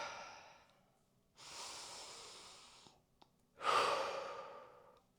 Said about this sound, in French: Si je vous demande de respirer très fort